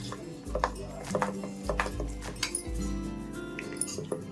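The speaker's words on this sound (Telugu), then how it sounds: "వేసుకున్న తర్వాత మనం బాగా ఇలా కలిపేసుకోవాలండి" A spoon stirs wheat flour cake batter in a bowl, giving irregular scraping and soft clinks close by, with low thuds underneath and no speech.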